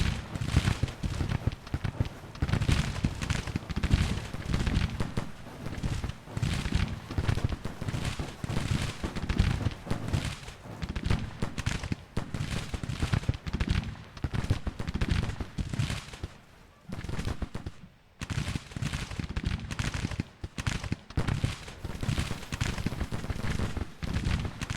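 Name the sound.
musket and artillery firing in battle, from video game Grand Tactician: The Civil War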